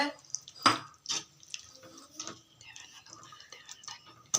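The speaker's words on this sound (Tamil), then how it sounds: "உங்களுக்கு தேவையான அளவு நீங்க தண்ணி ஊற்றிக்கோங்க." Water poured into a cooking mixture in a pot, heard as brief splashes and trickles with clinks and knocks over several seconds, with speech around it.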